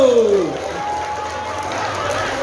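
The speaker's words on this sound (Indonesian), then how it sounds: "lagi sekali tepuk tangannya luar biasa" Audience applause at the opening ceremony of Bali Language Month 2023: a steady wash of clapping from a large crowd that fills the clip, with a voice briefly sliding over it at the start.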